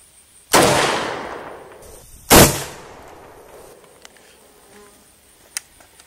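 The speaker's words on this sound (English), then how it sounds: "we're going to go ahead and fire another round in the top" Two loud rifle shots fired at a Midwest Armor Guardian IV ceramic body armor plate outdoors, each a sharp crack with a long rolling echo, followed by a few faint distant pops.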